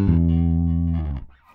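A Fender-style Jazz Bass played in passive mode: a single sustained low note rings clearly for about a second before being damped, close and full.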